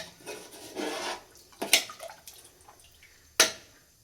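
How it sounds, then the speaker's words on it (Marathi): Half a glass of water poured into a pot of vegetables for Marathi masala rice, a brief splash followed by sharp metallic knocks of a utensil against the pot, close and otherwise quiet. "परत एक अर्धा ग्लास पाणी टाकले"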